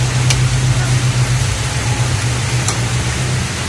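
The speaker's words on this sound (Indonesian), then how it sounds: "Stasionernya seperti ini." A Suzuki Katana running on gas fuel idles steadily in its engine bay, a low, even hum that holds constant the whole time with no revving, joined by two faint brief clicks.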